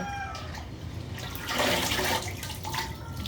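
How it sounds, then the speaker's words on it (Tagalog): Kangkong rinsed under running water makes splashing and flowing water, with a brief louder surge in the middle, close by and without talking. "Hugasan ko yung kangkong."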